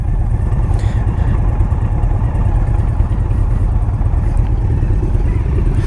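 A 2018 Indian Scout Bobber ABS motorcycle engine running steadily while riding, a loud, continuous low rumble with wind buffeting throughout and no break.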